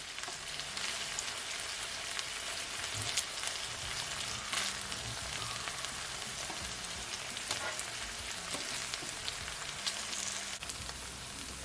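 Pepper steak pieces frying in a pan, an even, bright sizzle with fine crackles that holds steady throughout, close and unaccompanied by voices.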